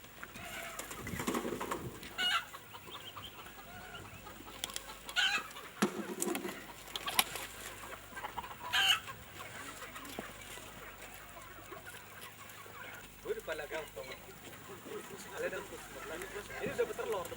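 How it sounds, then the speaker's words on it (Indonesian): Chickens cluck and coo while pecking at feed pellets, intermittent bird calls near and far, with people talking over them at times. "Ayam makan pelet."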